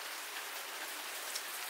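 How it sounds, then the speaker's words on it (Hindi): Heavy rain pours steadily in a village in Bihar, a dense, even hiss of drops on surfaces with no pauses and no voices over it. "पूरे दिन बारिश हो रही है।"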